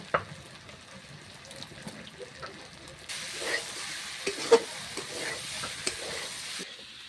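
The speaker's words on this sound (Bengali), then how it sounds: "আলুর সাথে মশলাটাকে ভেজে নিয়েছি" Potatoes frying with spices in a pan give a steady, soft sizzle, with stirring scrapes and clinks joining in. The sizzle turns louder and brighter partway through, with no talking.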